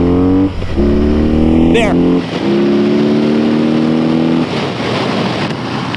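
A BMW cruiser motorcycle pulls hard from a standstill toward 60 on a cold day, its engine note climbing through distinct gear stages with a brief drop between shifts, loud and close, with a short spoken word in the middle.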